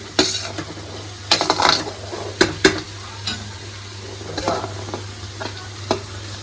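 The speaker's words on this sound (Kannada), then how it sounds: "ಈಗ ಟೊಮೊಟೊ ಹಾಕೋತಾ ಇದ್ದೀನಿ." Tomatoes go into a frying pan for tomato bath and get stirred, a spatula clanks and scrapes against the pan over a continuous sizzle.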